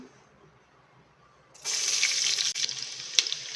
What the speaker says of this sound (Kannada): ಎಣ್ಣೆ ಕಾದಿದೆ ನೋಡಿ ನಾನು ಸಣ್ಣಗೆ ಒಂದು ಈರುಳ್ಳಿ ಹಚ್ಕೊಂಡಿದ್ದೀನಿ ಅದು ಹಾಕ್ಕೊಂಡ್ಬಿಡ್ತೀನಿ